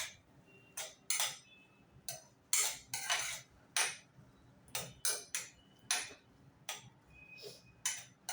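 A spoon clinks and scrapes repeatedly against a pan while paneer bhurji with turmeric and chilli powder is stirred, giving a faint, uneven series of sharp metallic taps with quiet gaps between them.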